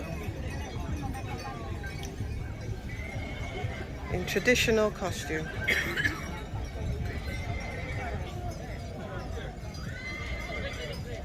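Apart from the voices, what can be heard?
Hungarian half-blood horse neighing and hooves clip-clopping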